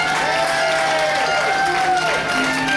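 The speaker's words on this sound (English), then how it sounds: "keep that applause going for our executive chef de cuisine" A cruise ship audience keeps up steady applause for the executive chef de cuisine, a continuous wash of clapping heard beneath a voice talking over it.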